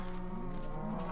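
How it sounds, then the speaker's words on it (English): Baby cows in the Minecraft video game give a single drawn-out low moo, steady and close, filling the whole short clip with no talk over it. "Let's see here if all my baby cows are out and about."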